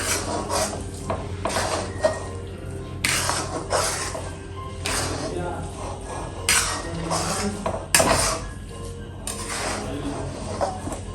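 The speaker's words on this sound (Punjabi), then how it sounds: "ਖੁਰਚਣਾ ਫੇਰਨਾ ਪਊਗਾ ਇਹਦੇ ਵਿੱਚ ਕੜਾਹੀ ਦੇ ਵਿੱਚ ਕਿਉਂਕਿ ਨਹੀਂ ਇਹ ਨੀਚੇ ਲੱਗਦੀ ਰਹਿੰਦੀ ਆ" A ladle stirs and scrapes semolina against the bottom of a kadhai over low gas while making sooji laddoos, giving repeated metallic scrapes and clinks at close range with no talk.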